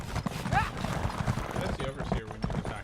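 Horse hooves clip-clop steadily in a video game, with a brief whinny near the start, heard beneath continuous talking from several voices.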